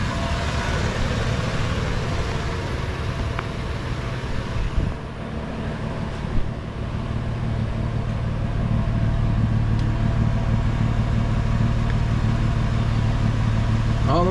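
A Toyota 4Runner engine idles with its newly fitted exhaust and muffler, giving a steady low rumble that holds evenly throughout, close and moderately loud, with no voices.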